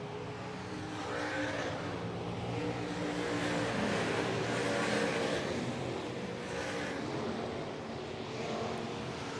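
IMCA stock cars race on the dirt oval at Clay County Speedway, engines droning as a continuous, fairly distant roar that swells and fades slightly as the pack passes, with no talk over it.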